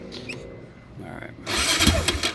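A 2003 Yamaha Raptor 660R ATV with stock exhaust cranks and fires up, a short starter whir followed by the engine catching into a loud, rough idle nearby.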